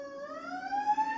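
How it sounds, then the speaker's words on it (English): An emergency siren wails in the background, its tone rising steadily in pitch, clear and sustained with no talk over it. "sorry about the sirens in the background."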